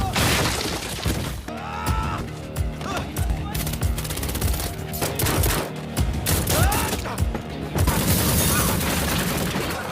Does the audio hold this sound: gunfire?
yes